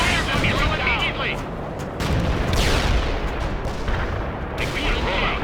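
Missile and artillery fire in a military video game, a dense continuous barrage of booms and blasts with heavy low rumble throughout, loud and close, with voices talking over it.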